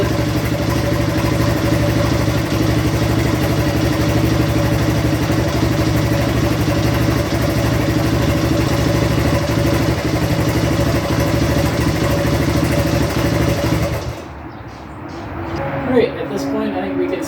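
A 1973 Honda 125 barn-find motorcycle, sitting unused for 39 years, idles loud and close with a steady rattling engine note, then the engine cuts out near the end, leaving clattering noises.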